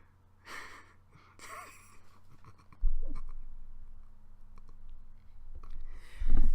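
A voice imitates dribbling an uninflated basketball, making soft irregular thuds, clicks and breathy puffs that grow slightly louder toward the end.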